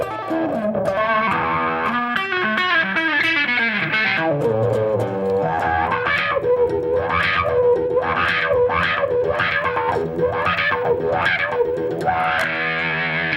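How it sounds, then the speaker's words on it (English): An electric guitar runs through a dynamic wah effect with distortion. A busy run of notes leads into a series of repeated phrases, each sweeping upward with a vocal-like wah, and the guitar plays alone throughout. "you turn the whole thing into a kind of a wah"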